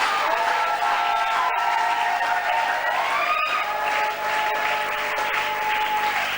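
A church congregation bursts into loud, sustained applause mixed with cheers and whoops, a dense clapping roar that keeps going without a break.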